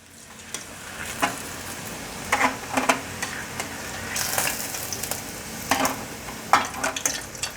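Vegan cabbage and tofu balls deep-fry in a shallow pool of oil, giving a continuous soft sizzle broken by sharper bursts of crackling as they are turned.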